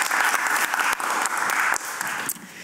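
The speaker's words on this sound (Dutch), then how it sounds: "Mag ik een applaus voor iedereen?" A crowd applauds at a harvest festival gathering, a dense, steady burst of clapping that stays loud and then tapers slightly toward the end.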